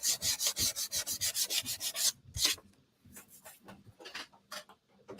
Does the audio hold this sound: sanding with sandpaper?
yes